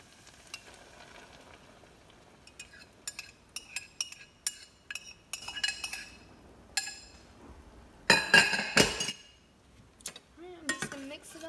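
Blackberry preserve mix being stirred with a utensil in a pan, with scattered clinks and scrapes, a loud burst of clattering in the middle and faint sizzling underneath.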